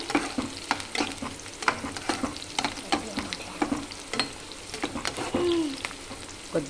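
Something frying in a pan with repeated stirring scrapes, steady sizzle under regular spoon strokes while it browns before chicken goes in.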